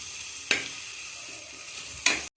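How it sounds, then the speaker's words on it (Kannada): Spices frying in a pan for peas kushka, a soft steady sizzle throughout, broken by two sharp scraping stirs of a spoon against the pan, close and fairly quiet. "ಹಾಕಿ ಚೆನ್ನಾಗಿ ಈ ಥರ ಫ್ರೈ ಮಾಡಿ."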